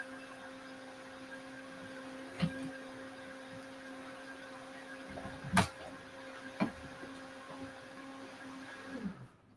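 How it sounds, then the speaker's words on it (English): A kitchen blender whirs steadily in the house, a faint continuous motor drone with a tonal hum, broken by a few sharp clacks and thumps nearby. "We got the blender going."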